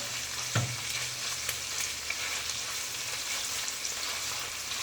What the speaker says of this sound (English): And my bacon, still just, you know, keeping an eye on it, giving it a stir